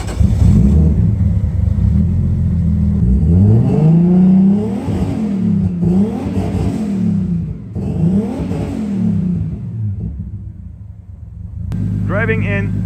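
A tuned Nissan Skyline making over 500 hp, heard in a garage, idles loudly and then rises and falls through several strong revs. The engine is close and rumbling, and a voice speaks briefly near the end.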